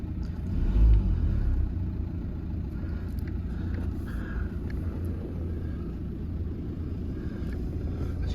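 A 2015-style Nissan Juke 1.5 dCi diesel with manual gearbox idles steadily after starting, a low, even engine rumble close by with a slight swell in the first second.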